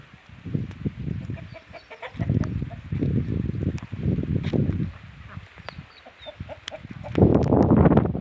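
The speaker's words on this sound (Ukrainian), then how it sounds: "качки твої купаються." Ducks cluck and call repeatedly nearby in short bursts, with rustling and splashing movement around them as they bathe; no talking.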